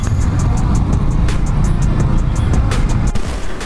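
A three-wheeled motorbike's engine drones steadily and loudly close by amid constant road traffic rumble, with no clear speech over it.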